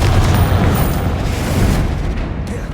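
Confringo fire spell bursting in Hogwarts Legacy, a loud, rumbling boom that fills the whole stretch with dense, sustained blast noise and no pause.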